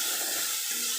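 Water pours steadily into a cooking pan with okra and shrimp, a continuous bright splashing rush, close and fairly loud throughout.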